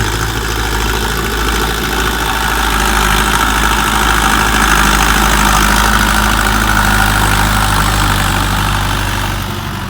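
A Dongfeng 404 tractor pulls a 3-25 plough through manured field soil, its loud, steady diesel engine droning close and continuous without any talk.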